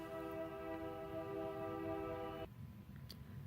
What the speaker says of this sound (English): I stopped for just a second to let the train go by some. It's still going by, but I think it's done with the horn